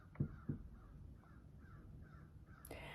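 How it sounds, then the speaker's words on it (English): Several crows cawing outdoors in a loose series of short harsh calls, distant and faint over a low background hum. "And the crows are going crazy outside."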